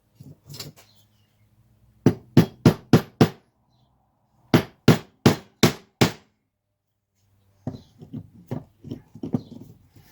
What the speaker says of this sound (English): I'll use better hammer.